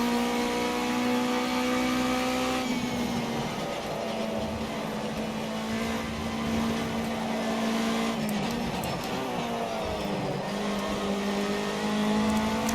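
A Ginetta Junior race car in Project CARS 2 at the UK Finals, its engine droning steadily at high revs with the throttle feathered so the pitch dips and recovers several times, heard continuously up close with no talk.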